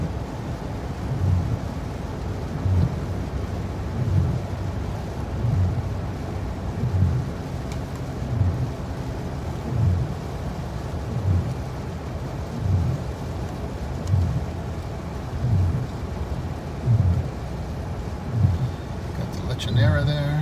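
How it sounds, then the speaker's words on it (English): Heavy rain falling in Manila, a steady hiss with low rumbling pulses throughout, carrying on without a break for the whole stretch. "we're getting a little bit more of a heavier rain again now"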